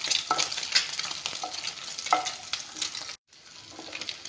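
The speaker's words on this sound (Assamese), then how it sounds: "এয়া কণীখিনি ভাজি ল'লোঁ।" Eggs fry in a pan with a steady sizzle, broken by scraping stirring strokes and a brief silent gap near the end.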